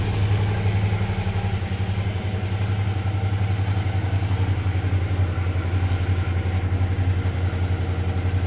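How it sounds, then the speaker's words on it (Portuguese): A Suzuki V-Strom 650 motorcycle engine idles steadily and close by, a constant low throb with a faint metallic rattle running through it, apparently from a loose engine part, with no one speaking. "Um barulho metálico, né? Chato. Parece que é uma peça solta no motor, alguma coisa assim."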